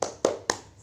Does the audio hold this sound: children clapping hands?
yes